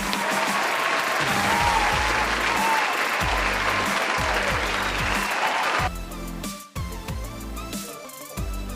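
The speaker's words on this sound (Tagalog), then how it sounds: "Applause Crowd Cheering" Stock applause and crowd cheering effect: a loud, dense wash of clapping with cheering voices that holds steady, then shifts to a thinner patch of clapping over a low rhythmic backing beat near the end.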